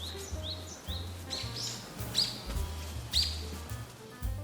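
Birds chirp in a green field beside a gentle stream, quick bright tweets and short rising calls repeating against a faint soft background with a low rhythmic thump underneath.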